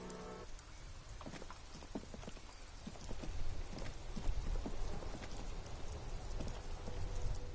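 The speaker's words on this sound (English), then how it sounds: "It's raining again." Steady rain falling at night, a dense continuous patter of drops hitting surfaces with scattered sharper splashes, moderately close and growing slightly heavier partway through, with no voices over it.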